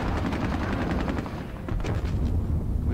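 Rapid bursts of gunfire and booms roll continuously as a tank fires at barbed wire in the Squad Battles Soviet-Afghan War video game, loud and dense with no speech.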